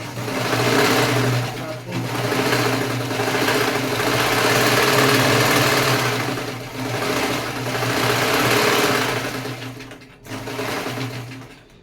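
A sewing machine runs in long continuous bursts while stitching a thick doormat, sewing around all four edges and tacking across the middle. The mechanical whir is loud and steady, with a few short pauses between runs.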